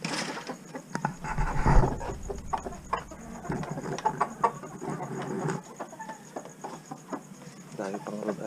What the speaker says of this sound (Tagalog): Dahil pang Rhode Island Red.